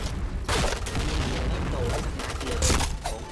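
Rapid bursts of T77 gunfire in a video game, sharp broadband cracks clustered in quick volleys, loud and close, with excited talk mixed in.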